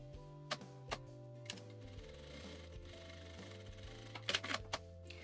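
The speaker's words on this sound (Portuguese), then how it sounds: "eu vou passar a costura pra fixar" A sewing machine stitches a zipper onto plastic for a baby document holder, running in short, quiet mechanical bursts with pauses and sharp clicks between runs.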